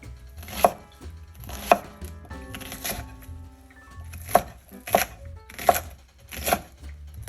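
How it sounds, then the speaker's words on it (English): Vegetables being diced with a knife for a squash casserole, giving sharp chopping strikes in uneven bursts, two early, a few in the middle, then four spaced hits near the end, close up with no talk. "this doesn't have to be sliced up real fine. Or diced up, I guess you would say, real fine."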